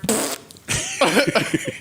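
A loud, close fart in two raspy bursts, the second longer and sputtering, with no talking over it.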